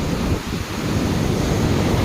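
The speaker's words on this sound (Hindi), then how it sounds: "घू घू गर्जन शुभुची केमती समुद्र पानी केमती आसुची" Sea waves roar steadily onto the shore in a loud, continuous wash, with heavy wind buffeting the microphone throughout and no voices.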